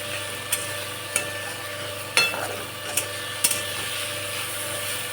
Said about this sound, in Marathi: ते हलवून घेऊ. मसाला चांगला तेलात परतला जाईल.